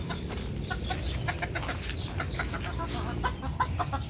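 Chickens cluck steadily at close range, the sound of poultry being smoked with coconut husk to keep mosquitoes away, with a fairly loud, continuous hum of farmyard background underneath.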